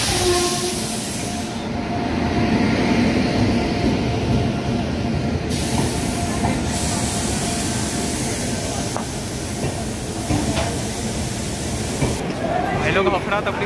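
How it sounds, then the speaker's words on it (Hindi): An Amrapali Express made up of LHB coaches rolls into a crowded station, giving a loud, steady rumble of wheels with squeals and clanks as the coaches pass close by, while people talk over the noise. "तो ये भाई लोग ट्रेन हमारी आ चुकी है और अब क्राउड देखो कितना है स्टेशन पे।"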